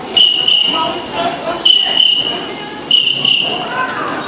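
A human voice imitates crickets chirping, producing three bursts of shrill, rapid trilling chirps, each about a second long and separated by brief pauses, loud and close.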